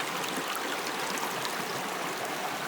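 River water rushing around a sluice box set in the stream, a steady close hiss and splash with no voices over it.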